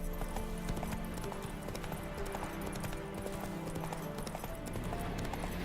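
Horse hooves clip-clop in a steady rhythm as Roach, Geralt's horse in The Witcher video game, trots along, with game music and ambience underneath and no talking.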